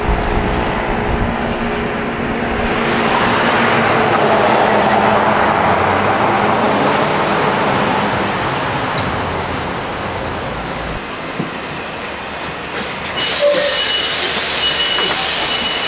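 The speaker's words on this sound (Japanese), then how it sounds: "このバスがね到着となります。" A city bus pulls up to a stop in Hawaii, its engine rumble and tyre hiss mixed with roadway traffic noise, close and steady, ending in a sharp hiss of air brakes or doors.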